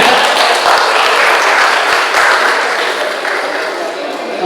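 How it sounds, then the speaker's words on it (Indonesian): Audience applause at a community trash-cleanup event tied to Gunung Gede Pangrango, a steady, dense wash of clapping filling the whole span, loud and close, with crowd murmur mixed in. "Mari kita beri tepuk tangan yang meriah."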